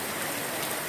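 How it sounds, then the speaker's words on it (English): Heavy rain pours steadily in Finschhafen District, Papua New Guinea, a dense, continuous hiss of drops on surfaces without a break or any voice. "it's raining here"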